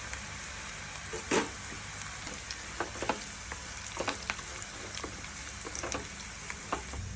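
Onions frying in a pan as shahjeera and cashews are added for Telangana bagara rice, a steady close hiss of sizzling oil with scattered crackles and pops throughout and a few stirring knocks, no talk.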